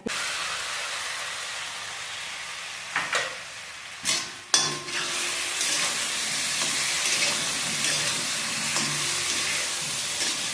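Brain frying with potatoes in a pan for aloo dum, a steady close sizzle and hiss throughout, broken by a few sharp clanks and scrapes of stirring, with no talking.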